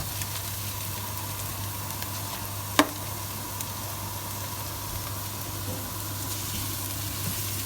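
Beef mince sizzles in a hot pan with garlic and chili, a steady close hiss running throughout with a single sharp knock partway through.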